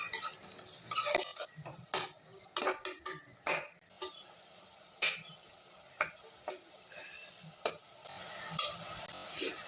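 Ground tomato paste and curry leaves saute in a pan while a metal spoon stirs. Sharp clinks and scrapes against the pan sound close by, over a faint, quiet sizzle.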